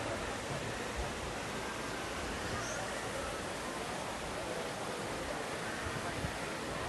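Steady broadband rush of water from installed waterfalls at Disney's Animal Kingdom, mixed with wind, constant and fairly soft throughout with no distinct events.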